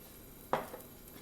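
A spoon stirring spices into Malvani crab curry masala in a pot, giving a single quiet scrape and clink, then stillness.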